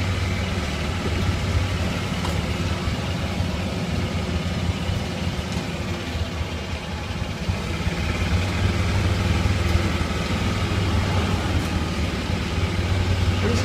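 A golf cart driven by a 13-year-old gives a steady, continuous low motor hum with road rumble, unchanging throughout and moderately loud.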